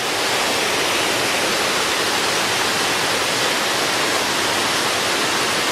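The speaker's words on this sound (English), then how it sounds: "A little pool of water which will flow into the main river." Small pool of water flowing steadily into a river in Kings Canyon and Sequoia National Park, California, a loud, constant broadband rush like a waterfall or stream, close and unbroken throughout.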